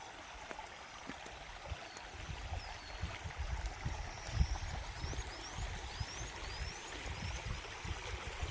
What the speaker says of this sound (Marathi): डायरेक्ट डोंगरातून पाणी येतं